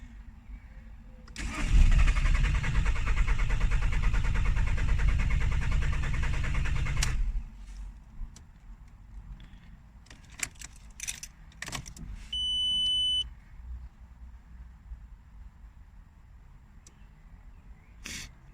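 A VW Golf 4 1.9 TDI turbo diesel is cranked in a start attempt, a loud churning burst lasting several seconds that then cuts off, followed by quieter clicks, clunks and a brief beep.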